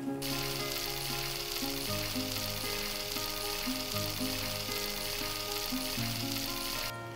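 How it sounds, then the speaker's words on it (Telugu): Chicken muttilu, a children's chicken snack, sizzle steadily while frying in oil, with a dense continuous crackle and hiss that stays loud and close throughout, alone, while soft background music plays underneath. "సో అవి ఫ్రై అవుతున్నాయి"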